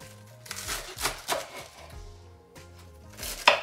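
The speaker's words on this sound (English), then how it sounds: "Here we have fresh romaine lettuce that I'm going to chop up." Fresh romaine lettuce is chopped with a knife on a cutting board, giving several crisp, close cuts in a loose irregular rhythm with brief pauses between strokes.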